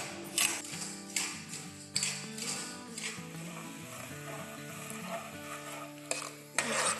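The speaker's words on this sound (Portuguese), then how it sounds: "você vai usar uma das xícaras de açúcar, colocar na panela com o fogo aceso e você vai mexer até virar uma calda" Sugar being stirred in a pan over the heat to make caramel syrup: repeated scraping spoon strokes against the pan over a soft, continuous sizzle, close and steady.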